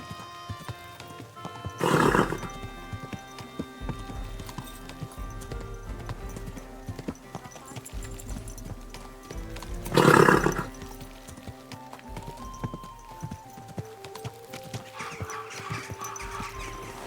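A horse in the video game Kingdom Come: Deliverance 2, with steady hoofbeats and two loud whinnies a few seconds apart, set against a faint musical background.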